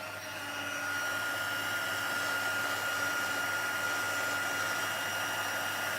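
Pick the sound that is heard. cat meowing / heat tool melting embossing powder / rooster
heat tool melting embossing powder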